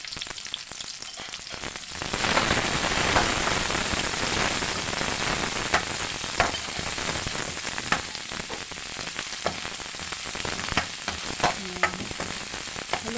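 Onion goes into a hot pan with tomatoes for Filipino ginisang kamatis, and a soft sizzle rises to a steady frying hiss. Scattered stirring clicks and pops sound close by, with no voices.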